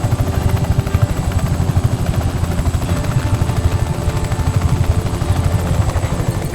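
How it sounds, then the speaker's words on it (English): A helicopter in the Just Cause 3 video game thuds with steady, fast rotor chopping, loud and continuous with no break. "Dispatching chopper support to contact"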